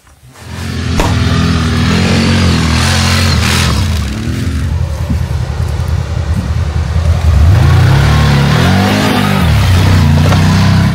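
A Polaris vehicle engine revs loud and close, rising and falling pitch over a steady roar, running continuously throughout.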